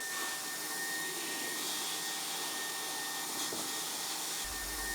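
A hot air welder fuses a vertical seam on a pool liner, giving a faint, constant blowing hiss with a thin steady whine and no speech throughout.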